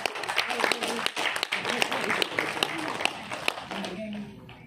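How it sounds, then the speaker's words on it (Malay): An indoor gathering of a taxi, rental car and limousine association breaks into lively audience applause, a dense burst of many hands clapping that tapers off near the end, with some voices mixed in. "memberi satu tepukan yang paling gemuruh kepada diri kita kerana hadir hari ini"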